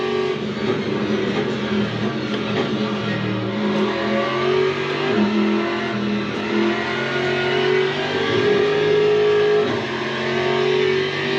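A GT3 race car in the Le Mans Ultimate sim racing game, its engine droning and revving steadily and loudly as it works up through the gears, with no voices over it.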